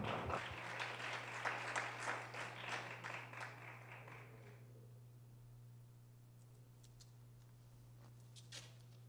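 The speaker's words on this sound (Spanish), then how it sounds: "Un aplauso, por favor." Audience applause at a panel discussion on menstrual equity in Mexico City, a few seconds of moderate clapping that fades out over a steady electrical hum, leaving scattered faint claps and room noise.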